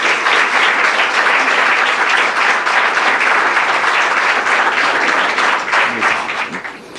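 A crowd applauds steadily for several seconds at a University of Chile academic year inauguration ceremony, dense and full, then begins to thin out at the end.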